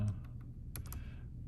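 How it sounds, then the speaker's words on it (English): Keys clack on a computer keyboard during annotation of a Nihon Kohden recording, a short burst of several light, close taps followed by quiet. "you just start typing"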